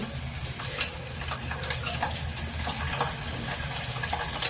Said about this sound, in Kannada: ಜೀರಿಗೆ ಸಾಸಿವೆ ಹಾಕಿದ್ದೀನಿ ಇವಾಗ ಬೆಳ್ಳುಳ್ಳಿ ಹಾಕ್ತಾ ಇದ್ದೀನಿ